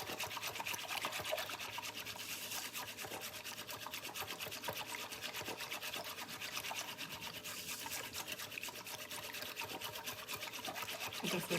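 Whisking vigorously in a bowl produces a rapid, steady metallic ticking and scraping that runs evenly and fairly quietly, with no talk over it.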